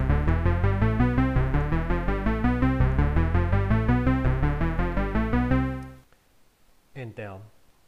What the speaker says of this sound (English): This is the sound of 2 triangles and pulse width modulation.